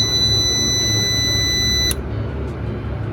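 A UPS unit's long, loud electronic beep drones steadily for nearly two seconds, then cuts off abruptly, leaving a low mechanical hum.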